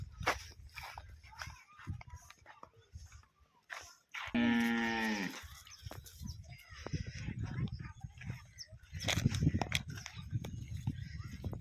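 A cow at a farm gives a single loud, drawn-out moo midway, surrounded by quieter shuffling, hoof steps and scattered farmyard noise, with people talking faintly nearby.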